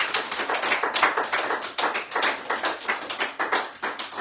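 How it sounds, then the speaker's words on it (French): A church congregation at a worship service claps together in a brisk, steady rhythm, a dense wash of hands filling the room for a few seconds with no voices over it. "Applaudissons le roi des rois."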